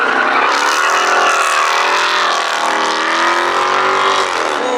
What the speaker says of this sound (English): Check out this stupidly loud thing. Come on, hit it to second gear as well